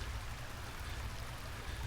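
A forest creek flows in a steady, even wash of running water, close and continuous for about two seconds, with no voices.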